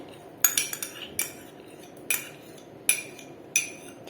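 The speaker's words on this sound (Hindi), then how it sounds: "अच्छी तरीके से मिक्स कर रही हूँ" A spoon mixes a thickening pasta sauce with pizza sauce in a pan, giving a handful of sharp metallic taps and scrapes spaced irregularly over a quiet background, close and clear, with no voices.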